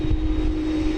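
An American Airlines jet at DFW Airport roars steadily with a strong engine hum and a sustained tone, loud and constant for a second.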